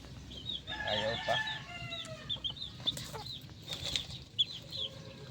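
A mother hen clucks and murmurs in quick soft bursts, with some wing flapping and scattered chicken calls nearby, close and moderately loud against a low background.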